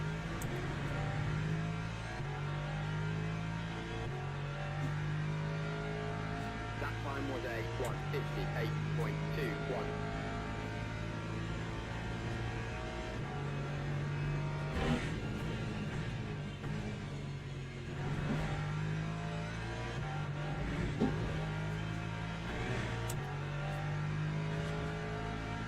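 LMP3 prototype race car engines hum and drone steadily in Le Mans Ultimate during a slow-paced multiclass race at Paul Ricard, with pitch shifts as the cars rev, under a commentator's voice.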